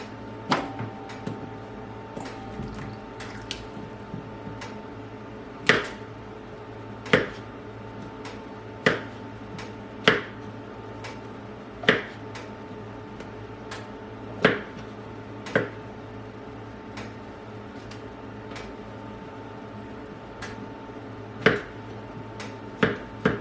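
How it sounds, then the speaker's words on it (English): A knife cuts mushrooms into chunks on a board, sharp distinct knocks landing at uneven intervals across a quiet room with no speech. "Now this one is bigger, so we'll cut it accordingly."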